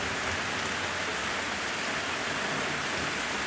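Heavy rain pours down in a continuous, dense hiss during a thunderstorm, steady and moderately loud, with no talking.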